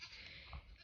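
Young junior does and other goats in a farm pen give a brief, faint bleat over a steady background hiss.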